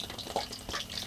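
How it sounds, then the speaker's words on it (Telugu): Homemade samosas fry in oil on a low flame with a soft, steady sizzle and faint crackles and bubbling, heard up close and quiet. "మంట అయితే లో ఫ్లేమ్లో పెట్టేసుకొని ఫ్రై చేసుకుంటున్నా"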